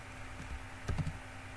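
A few quiet computer keyboard keystrokes in a short cluster while HTML code is typed, soft and close against a faint background hum.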